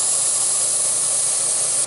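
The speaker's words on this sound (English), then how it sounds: "As far as the refinement of the way the airbrush works" A Timbertech combo kit airbrush sprays in a steady, close, even hiss that holds for nearly two seconds and cuts off abruptly at the end.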